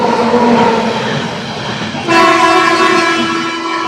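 A passing train on an Indian railway line near a small station on a Kolkata to Nagaland route, loud and close, with a long sustained horn blast cutting in over the rolling rumble of the wagons.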